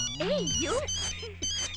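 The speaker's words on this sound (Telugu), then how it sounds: "రాంగ్ టైం లో రింగ్ అవుతుంది." A melodic electronic phone ringtone plays briefly, its warbling tones rising and falling, fairly close and clear.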